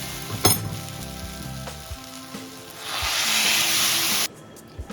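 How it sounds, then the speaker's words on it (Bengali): Water is poured into a pan of fried dalia, or broken wheat, and meets the gentle sizzle with a loud, rising hiss of steam that cuts off suddenly. A few clinks of a spoon follow. "এবারে জল দেবো, ভাজা ভাজা হয়ে গেছে"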